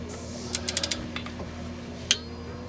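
A torque wrench tightens the oil drain bolt on a 2006-2011 Lexus GS300/GS350, heard as a quick run of five light ratcheting clicks followed after a pause by one sharper click, close over a faint background hum.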